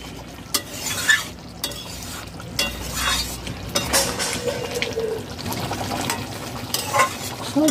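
Spiced vegetables with ground garam masala stirred in ghee in a hot pan, with irregular scraping and clinking strokes over a light sizzle, heard up close with no talking.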